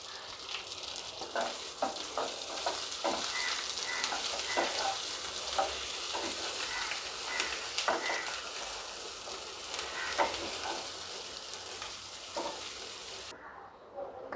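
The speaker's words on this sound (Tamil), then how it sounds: "ஒரு 10 மினிட்ஸ் இந்த கத்திரிக்காயை திருப்பிட்டு வதக்கிக்கலாம்" Stuffed brinjal sautéing in oil for an oil eggplant kulambu, a soft continuous sizzle with scattered stirring scrapes and light clinks, fairly quiet and close, with no talking.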